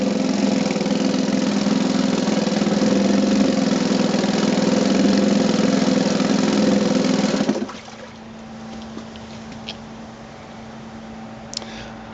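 A 1975 Chrysler 3.6hp outboard motor with a Tillotson carburetor runs at a steady, loud, buzzing idle for about seven seconds, then cuts off abruptly, leaving a faint hum and a few small clicks.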